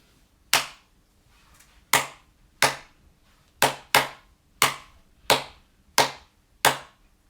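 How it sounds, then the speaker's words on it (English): A single person's sharp hand claps sound alone in a clear rhythmic pattern of about nine claps, spaced unevenly with some quick pairs, as a clap-back rhythm test for a grade 2 music listening exercise. "So I'm going to clap test number 1 for this one."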